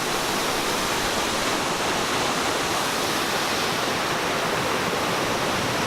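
Kulen waterfall in Cambodia, a steady, dense roar of falling water, loud and unbroken throughout with no voices.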